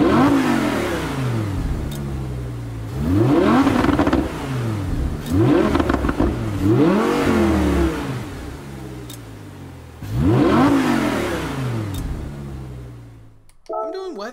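A 2016 Audi R8 Coupe V10 with all-wheel drive and 601 horsepower, in Gran Turismo 7, revs up and down in several loud, rising and falling sweeps, with talk over parts of it.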